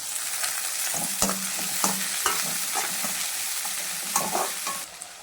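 Onions sizzle steadily in hot oil in a pan for kothu parotta. The frying hiss stays loud and close while a spoon scrapes and stirs several times, and no one speaks.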